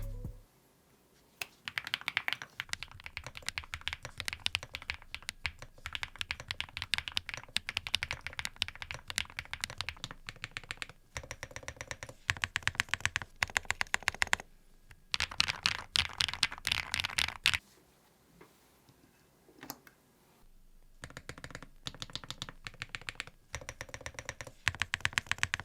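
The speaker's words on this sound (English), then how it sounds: "let's have a listen to the typing sound." Continuous brisk typing on a QK Alice DUO split mechanical keyboard, close and clear, with dense clacky keystrokes in bursts separated by brief pauses.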